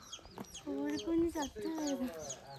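Chickens clucking beside a small roadside house in Darjeeling, India, a close run of repeated throaty clucks and calls, with a person speaking briefly.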